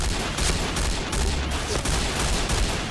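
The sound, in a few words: G36C rifle gunfire in the video game Point Blank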